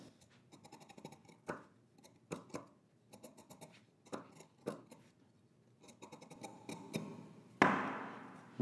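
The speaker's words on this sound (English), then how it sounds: "the last thing I'm going to do is trim off until about 1/4 inch." Scissors trim the seam allowance on a sewing pattern piece for a men's garment, giving a series of close, crisp snipping cuts in quick irregular bursts, ending with a louder final snip.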